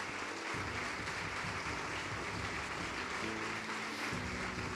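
A church congregation applauds in a steady, faint wash of clapping that holds throughout without pause.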